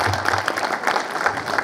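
An audience at a crowded public event in Jalgaon, Maharashtra applauds the anchor with a steady burst of many hands clapping. A faint murmur of the crowd sits beneath it.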